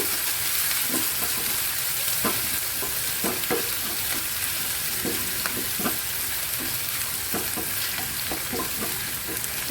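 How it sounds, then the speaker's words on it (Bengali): Chopped onions frying in hot oil over medium flame for a crispy potato sandwich, with a steady bright sizzle and repeated scraping stirs throughout, close and continuous with no talk. "তেলটা গরম হয়ে এসে এবার পেঁয়াজ কুচিগুলো দিয়ে দিলাম।"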